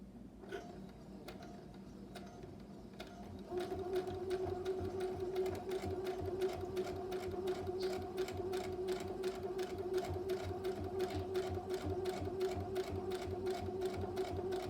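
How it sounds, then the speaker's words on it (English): A sewing machine stitches fabric for a bag, starting after a few quiet seconds with soft handling noise, then running as a fast, even, close mechanical chatter of repeated needle strokes. "And I'm slowly going to sew."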